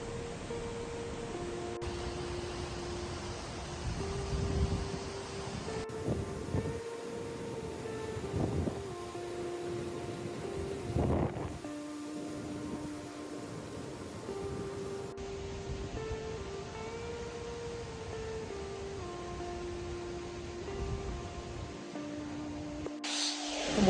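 A steady, roaring rush of wind and rain with pouring water at Nanemachi Waterfall fills the whole stretch, with gusty swells and a low droning hum underneath.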